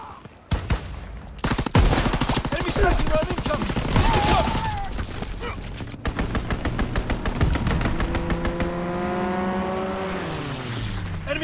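Aircraft strafing gunfire in Call of Duty WWII: loud sustained bursts of rapid automatic fire dominate, followed by a droning engine pass whose pitch falls as the plane sweeps overhead.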